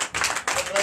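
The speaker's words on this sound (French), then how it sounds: "Donc je vous demande d'applaudir très fort." A church congregation at a Sunday service in Benin applauds, a dense burst of many hands clapping close by with a brief dip partway through, loud and continuous.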